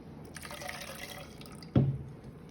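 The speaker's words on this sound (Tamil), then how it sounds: "இப்போ நம்ம இந்த மிக்சியை கழுவின தண்ணியும் அதில் ஊற்றிக்கலாம்." Water used to rinse a mixer jar is poured into a pot of thuthuvalai rasam, a soft trickle and splash that peaks in one brief gush near the end.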